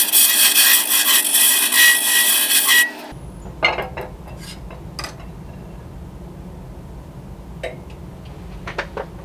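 A wood lathe cuts a tenon on an acorn lidded box with a loud, steady rasping for about three seconds. The cutting then stops, leaving a low motor hum and a few faint scrapes.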